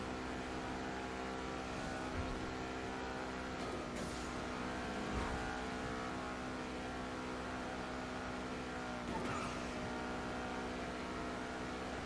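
A fast car in a racing video game gives a steady, high engine drone with a few brief surges and bursts of noise, running continuously without talk.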